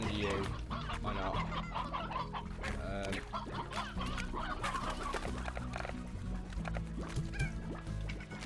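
Hens in the video game Slime Rancher, repeated busy clucking and squawks from several birds over a steady game music bed with a low bass line, continuous and fairly loud throughout.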